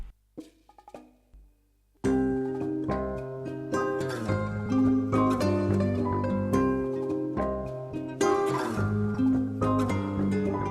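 A sample melody layered from two real instruments starts with a few quiet plucked notes, then swells into a full, sustained, steady melodic loop that plays on loudly without voices.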